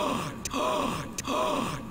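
Morgana, a character in the video game Persona 5, gives a voiced gasp, one of several repeated breathy vocal bursts heard close and clear against a steady game background.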